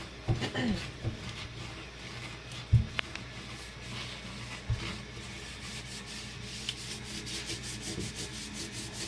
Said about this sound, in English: now that we've done all that rubbing